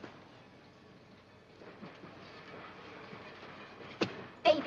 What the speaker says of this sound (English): That's a train backing in on the other track.